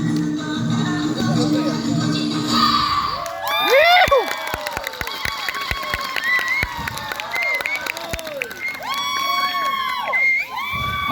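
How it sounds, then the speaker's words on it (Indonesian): A crowd at a scout camp event in Aceh cheers and applauds. Loud whoops and children's shouts mix with sharp bursts of clapping, rising and falling in waves close by. "tepuk tangan untuk kita semuanya"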